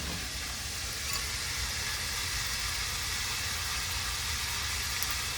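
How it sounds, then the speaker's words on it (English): Seafood searing in a very hot pan over a fire, a steady even hiss of sizzling throughout with no clear breaks or stirring. "Now that fire is good and hot, we're going to go ahead and get a good sear on this."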